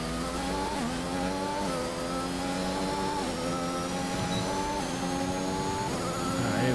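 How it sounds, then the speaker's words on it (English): A high, whining race car engine roars steadily, its pitch climbing and dropping in repeated sweeps as it accelerates and shifts, loud and close with no talking. "You can hear that engine whine."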